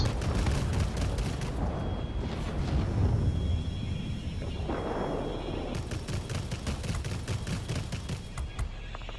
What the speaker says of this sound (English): Been here behind them while they're shooting at us.